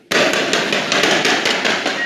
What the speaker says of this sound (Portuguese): Os disparos foram ao lado da base da Polícia Militar na favela do Jacarezinho.